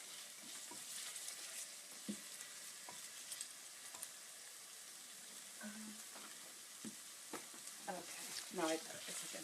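Red pepper flakes stirred in a hot frying pan for clam spaghetti, a faint steady sizzle with occasional soft scrapes and a few small clinks, quiet and close.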